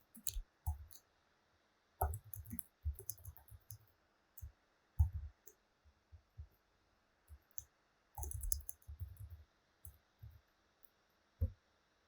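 Keyboard keys clicking in short irregular bursts while a readme file is edited, with brief pauses between runs of taps, close but quiet over a faint hum, with no talking.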